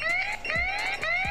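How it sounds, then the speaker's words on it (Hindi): A bike anti-theft alarm sounds through a mobile phone speaker: a loud, continuous electronic tone with repeated rising sweeps that pulse roughly every half second, with no talking. "आपके यहाँ पर मोबाइल में ऐसे अलार्म बजने लगेगा"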